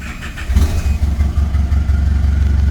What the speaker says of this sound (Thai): เดี๋ยวลองเร่งกัน